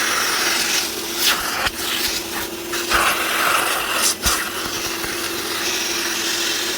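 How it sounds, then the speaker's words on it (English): A hoover runs over the seats of a cheap used Seat Exeo, a steady close whirring hiss with brief rubbing bumps as the nozzle drags across the upholstery, no talk. "I'll just run the hoover over it now."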